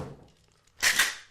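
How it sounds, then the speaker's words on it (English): Ice dropped into a cocktail shaker while making a strawberry mocktail, a short burst of clattering cubes landing after a quiet moment. "Just going to add some ice."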